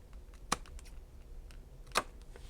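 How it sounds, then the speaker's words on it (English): Scissors snip small triangles off the edges of paper tabs, giving two crisp, quiet cuts about a second and a half apart in an otherwise hushed room. "so now I'm just going to go ahead and miter the edges of the 3 tabs. Just snip off a small triangle."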